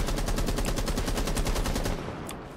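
Automatic gunfire in the video game Rainbow Six Siege, a rapid, evenly spaced burst of shots lasting about two seconds before cutting off, loud and sustained with no talking over it.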